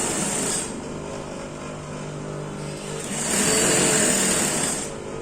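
A sewing machine runs elastic lines across a skirt, giving a steady close mechanical whir that swells louder in two longer stitching runs with a short lull between, and no voices.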